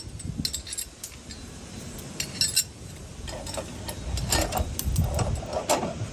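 Small metal parts, a bolt, washers and a nut, clink and rattle while being fitted onto a cab step bracket. The clicks come close and irregular over low handling noise, with no talking.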